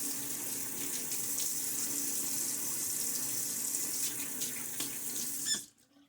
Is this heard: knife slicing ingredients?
no